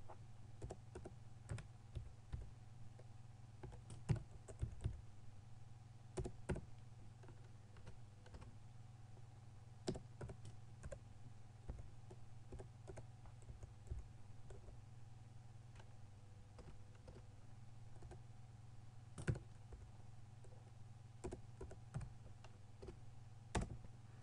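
Irregular clicks of a computer keyboard being typed on during a subtraction exercise, faint keystrokes in short bursts with pauses over a steady low electrical hum.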